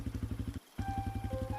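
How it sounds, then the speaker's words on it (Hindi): A motorcycle engine thuds in a quick, steady beat on a dark, flooded road in heavy rain, cutting out for a moment before picking up again, close and moderately loud with no speech. "राघव ने बिना पीछे देखे एक्सीलेटर घुमाया और बाइक आगे बढ़ा दी"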